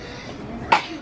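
A single short, sharp sneeze bursts out near a horse stable during a child's first horseback riding lesson, rising briefly above faint background murmur.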